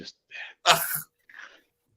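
One sharp sneeze from a person on a talk show, a loud burst preceded and followed by brief quiet speech nearby.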